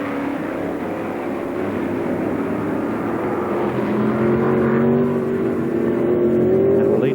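Racing cars at the 1973 Tasman Series race at Warwick Farm, a steady roar of engines rising as cars pass, with a whining pitch climbing toward the end, moderately loud and alone.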